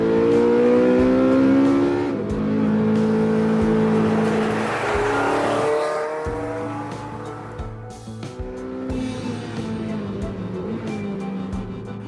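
A Porsche 918 supercar engine revs hard and climbs through the gears, loud and close, then settles into a lower steady drone before building again, with no talk over it.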